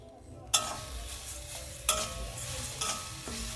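Grated coconut and sugar being stirred in a kadai for patishapta filling, with a spoon scraping in three distinct strokes over a soft, steady sizzle, close and clear with no talk.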